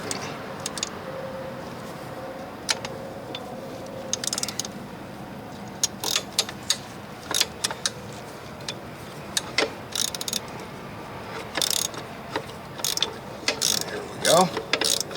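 A ratchet clicks in short bursts while loosening bolts on the chain housing of a Polaris Scrambler 500 ATV, the clicks close and crisp, separated by brief pauses and low background noise.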